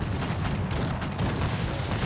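Dense, continuous crackle of massed musket gunfire in the video game Cossacks 3, volleys overlapping into a steady roar with no clear gaps between shots.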